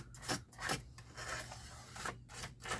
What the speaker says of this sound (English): I like to keep a toothbrush, and I clean out the track of my trimmer